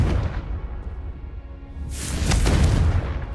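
A Confringo fire spell goes off in Hogwarts Legacy: a quiet rumbling lull, then a sudden loud fiery blast that stays roaring to the end.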